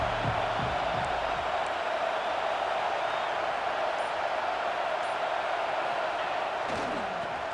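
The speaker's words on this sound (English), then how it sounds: "Listen to the crowd energy here in the early going." Roar of a large stadium crowd in the video game EA Sports College Football 26, a continuous broad wash of cheering noise with a few thuds near the start.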